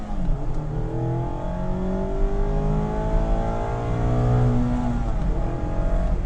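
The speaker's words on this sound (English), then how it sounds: "Induction noise is fantastic. It fills the cabin, especially with the ND." A 2019 Mazda MX-5 RF's engine revs up through the gears with strong induction noise, a loud, close, rising drone that climbs in pitch repeatedly over several seconds with no talking.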